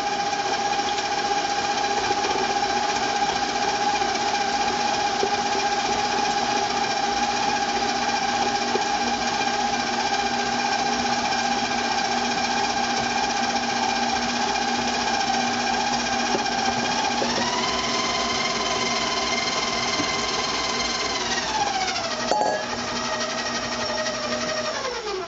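An electric mixer runs at a steady whine while the dry mix for coconut flour muffins goes in, holding an even pitch and then dropping and shifting speed near the end, with no voices over it.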